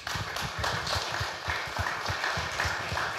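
An audience at a panel discussion on bitcoin mining applauds, a dense, even patter of many hands clapping that continues throughout, moderately distant with no clear speech over it.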